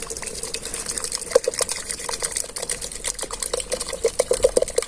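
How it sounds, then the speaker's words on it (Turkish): Water pours for brewing tea in a village kitchen, a bright splashing gush with rapid clicking and clinking pulses throughout, close and continuous without speech. "Şimdi suyu bırakıyoruz."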